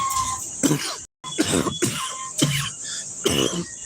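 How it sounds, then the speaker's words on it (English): A run of harsh, hacking coughs repeats close up, several in quick succession with a brief pause partway through. "That ain't no perk cough either. That's an actual cough."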